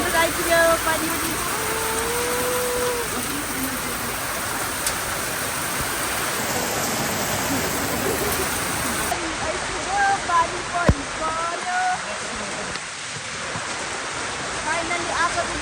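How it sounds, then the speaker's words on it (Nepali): Rain falling in Ghandruk village in Nepal, a dense continuous hiss of heavy rainfall filling the scene, with voices talking faintly underneath. "फाइनली आएको बित्तिकै पानी पऱ्यो"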